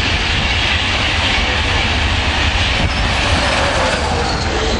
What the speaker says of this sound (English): 66701, quite a number of times that's been the multicoloured loco